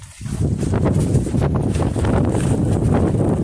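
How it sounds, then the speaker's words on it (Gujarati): Steady roaring wind on Girnar mountain near Junagadh, on the climb toward Dattatreya peak, buffets the microphone, a continuous broadband rush with gusty rumble that holds at a constant loud level throughout. "તમને હું પવન બતાવું"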